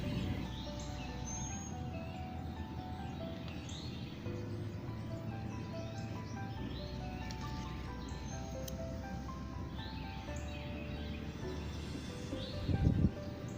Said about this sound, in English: Do you hear all those birds singing?